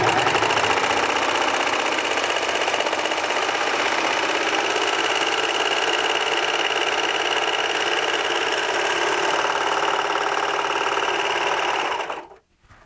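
A Baby Lock Victory serger runs at high speed for about twelve seconds, sewing a 3-thread overlock stitch, a loud continuous mechanical whir that stops abruptly at the end.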